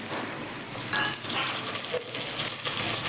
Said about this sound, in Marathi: गाजर हे सर्व घालून चांगले भाजून घ्यायचे तेलात भाजलं पाहिजे चांगलं